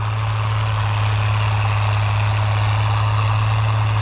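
A farm tractor engine idles steadily at close range, a deep constant low hum with a rough mechanical rumble above it and no one speaking.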